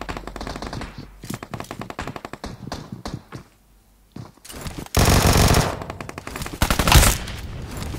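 Machine gun fire in a ghost-castle battle video game comes in rapid bursts, with a short lull, then a dense, loud sustained volley and a few more bursts.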